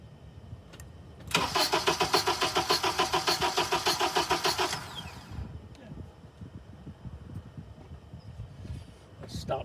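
Car engine cranking over on the starter with the engine in its natural state, a loud, close, rhythmic chug of about three seconds that stops abruptly, followed by quieter shop noise and clicks.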